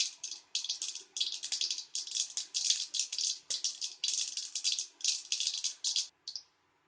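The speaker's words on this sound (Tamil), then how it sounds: "கடுகை பொறுமையாக பொரிய விடுங்க." Mustard seeds pop and splutter in hot oil in a rapid, crackling rattle of bursts that continue for several seconds, then stop abruptly, close and fairly quiet with no speech.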